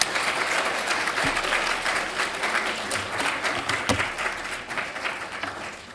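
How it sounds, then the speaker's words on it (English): An audience applauding the speakers at a graduation ceremony, a dense wash of clapping that holds strong and then gradually thins and fades toward the end. "Could we have one more round of applause?"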